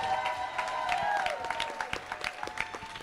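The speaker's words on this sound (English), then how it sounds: "please give a round of applause for the instructor of the kinesthetic group from Harena, Laura Netherwood." An audience at a public schools convocation applauds an instructor, steady clapping with a faint crowd murmur and a tonal hum underneath, moderately loud throughout.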